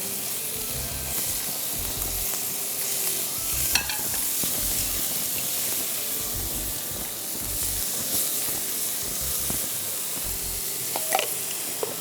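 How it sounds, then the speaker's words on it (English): Vegetables for a vegetarian korma frying in a non-stick pan, a continuous close sizzle and hiss with rhythmic scraping as a spatula stirs them, and no talking. "basically try to get it fried golden brown like you would with meat"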